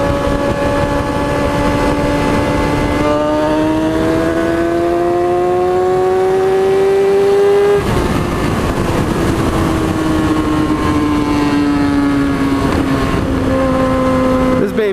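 A heavy motorcycle engine runs loud and close, its tone rising and falling through steady revs for the whole stretch, with someone speaking briefly over it.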